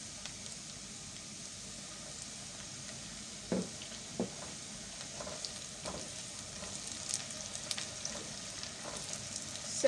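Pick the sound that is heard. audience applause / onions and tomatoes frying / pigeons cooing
onions and tomatoes frying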